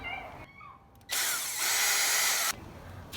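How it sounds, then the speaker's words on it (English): A power drill whirs loudly for about a second and a half, drilling mounting holes for an intercooler install on a Volkswagen GTI MK7, spinning at steady speed before cutting off, with quieter background noise around it. "Okay, so now that I marked the holes, I'm gonna drill now."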